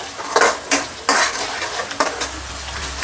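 Ginger fries in a pan for fish curry while being stirred, a close sizzle broken by several loud scraping strokes of a spoon against the pan.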